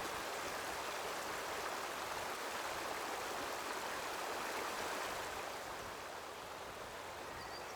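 A river in Belgium rushes after the 2021 floods, a dense, continuous roar of flowing water, close and steady, easing slightly near the end with no talk.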